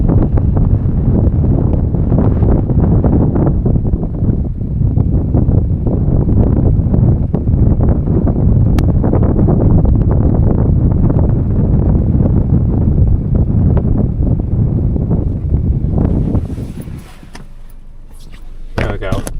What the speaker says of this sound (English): if you can even hear me over the wind right now